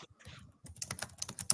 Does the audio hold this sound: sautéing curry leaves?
no